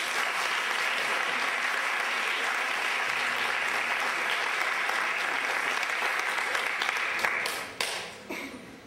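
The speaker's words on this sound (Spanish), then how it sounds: "Un fuerte aplauso también." An audience at a school ceremony claps in a dense, steady burst for about seven seconds, then the applause thins to scattered claps and fades out.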